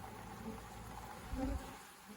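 Honey bees buzz softly around an open hive during a mite wash, a faint, steady drone with brief swells, close but low in level, with a soft handling thump midway.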